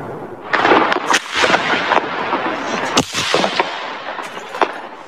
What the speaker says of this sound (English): by the sound of constant gunfire and explosions.